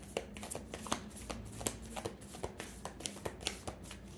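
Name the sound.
shuffling a deck of tarot cards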